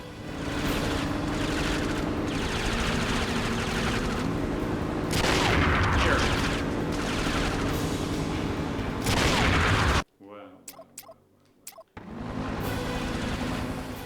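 Loud, sustained gunfire in 007 Nightfire as shots pour at a car's tires, rapid bursts run for about ten seconds, then a brief near-silent lull with a few isolated cracks before the shooting resumes.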